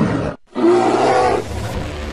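A bear in GTA 5 lets out a loud, close roar after a brief gap, one sustained growling bellow lasting over a second, then fading into a lower rumble.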